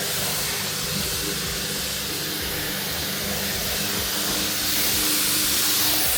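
A pressure washer sprays water onto a car tire during a rinseless-wash detailing job, a loud steady hiss of spray held unbroken from start to finish.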